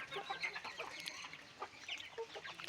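Free-range village hens and chicks peck at scattered grain, giving soft, overlapping clucks and small chirps in a quiet evening farmyard. The sounds are faint and come in irregular bursts with no talking.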